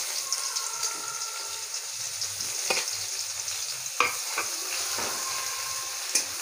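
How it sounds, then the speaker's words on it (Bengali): Chopped onion hits smoking-hot oil in a home kitchen pan, a steady bright sizzle broken by several sharp spatters and stirring clinks, close and moderately loud. "তো আমি তেল, আমি দেখো গরম হয়ে গেছে, ধোঁয়াও উঠে গেছে। তো আমি এই যে পেঁয়াজটাকে ছেড়ে দিচ্ছি।"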